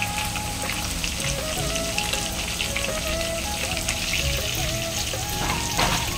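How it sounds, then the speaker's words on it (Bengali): Potatoes and pumpkin with pointed gourd fry in a pan, a steady close sizzle running throughout with faint clinks, and no talking. "আলু আর কুমড়ো মোটামুটি ভাজা হয়ে গেছে"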